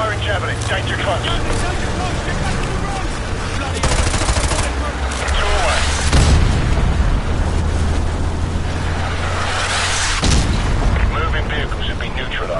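Artillery strike explosions in Call of Duty: Modern Warfare 2 Remastered, heavy booms rolling over sustained machine-gun fire, loud and close, with radio voices talking under the din.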